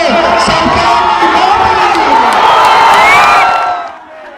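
A large crowd at a Tejashwi Yadav election rally in Bihar cheers and shouts loudly in a dense, continuous roar that drops away abruptly at the end.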